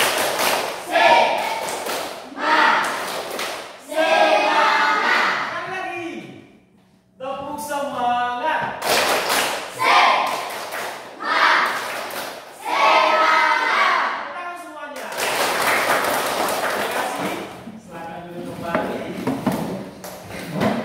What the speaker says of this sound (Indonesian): Oke, mulai tepuk semangat.